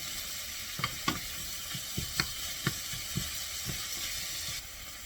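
Frozen cilantro sizzles steadily in a pan with fava beans, a soft constant frying hiss broken by several sharp clicks and taps of a utensil stirring against the pan.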